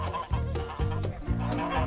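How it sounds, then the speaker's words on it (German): A flock of geese honks and cackles close by as one goose calls the others over to food, with repeated overlapping calls in a busy, continuous chorus. "die Möp Möp ruft die anderen Gänse, dass sie Essen gibt"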